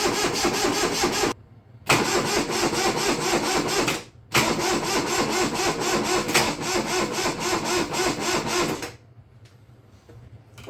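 A Kubota 662 diesel engine, just bled of air at the injectors, cranks over on its starter in three long bursts. Each burst is a loud rhythmic churning, with short pauses between them and a quieter tail at the end.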